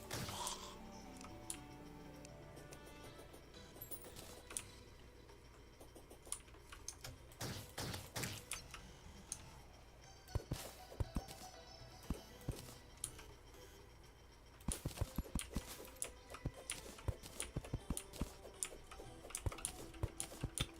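Clicking of a rigged mechanism in Terraria Calamity, rapid sharp ticks and clicks scattered irregularly, faint at first and growing busier and denser toward the end.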